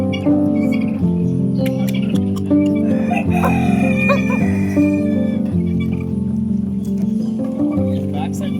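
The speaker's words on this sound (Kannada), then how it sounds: "ಗಿರಿಜಾ ಕೋಳಿ." Giriraja chickens cluck in an enclosure of birds while people talk over them; the calls run steadily throughout and sit largely under the voices.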